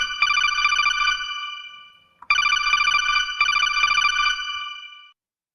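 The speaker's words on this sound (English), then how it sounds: "Thank you, Metal Gear Solid ringtone." A Metal Gear Solid ringtone plays as a bright, tonal electronic melody in two loud bursts separated by a short gap, with no talking over it.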